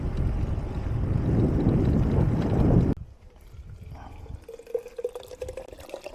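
Water gushes from an outdoor tap, a loud steady splashing that stops abruptly after about three seconds, followed by quiet drips and faint wind.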